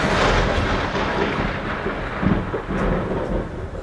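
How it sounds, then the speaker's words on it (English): A lightning strike from a summer storm brings heavy, rolling thunder that rumbles loudly and continuously. The thunder stays dense and broad from start to finish with a steady wash of storm noise. "here is a lightning strike that I recorded during a summer storm earlier this year"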